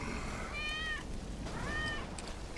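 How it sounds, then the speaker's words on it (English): Wedge's cat in Final Fantasy 7 Remake meows twice, two drawn-out rising-and-falling cries about a second apart, moderately near over a steady low ambient rumble from the game. "That's Wedge's cat."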